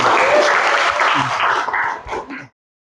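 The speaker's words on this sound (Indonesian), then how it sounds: "tepuk tangan buat Lili" A classroom group gives Lili a short round of clapping that fades and breaks into a few scattered claps before stopping abruptly, with faint voices mixed in.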